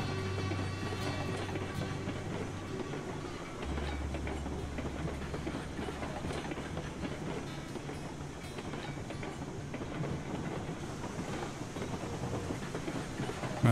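Steam train rolling on rails in the Railroads Online video game, a steady rumbling clatter of wheels with a low droning hum that shifts partway through, continuous and moderately quiet with no talking.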